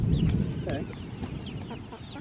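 Many of about a hundred chickens clucking nearby, with busy overlapping clucks and short calls and a brief low voice underneath.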